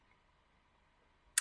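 A computer mouse gives a single sharp click right at the end, after a near-silent stretch in a quiet room.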